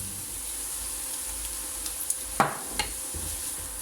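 Bell peppers and onions cooking in a pan with pepper added, giving a low steady sizzle with a few light clinks and one louder utensil knock partway through.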